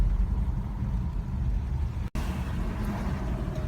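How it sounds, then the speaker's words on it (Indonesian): A Mitsubishi Pajero Sport Dakar diesel engine drives with a turbo that begins to whine from about 1500 rpm, heard with the window down; a steady, close engine drone and road rumble, with a brief cut partway through and no talking. "mulai dari 1500 rpm itu sudah terdengar bunyi desingan turbo untuk menambah tenaganya"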